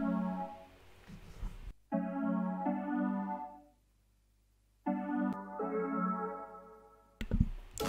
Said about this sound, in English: with the effect, it sounds more like spacey and more like ambient